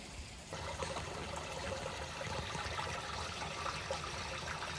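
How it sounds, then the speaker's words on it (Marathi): Flood water in a German village streaming out and running along a road, a continuous broadband rush of flowing water that stays steady and fairly close throughout. "हे इथूनच पाणी बाहेर येत आहे आणि वाहत वाहत वाहत हे इथं मध्ये जात आहे"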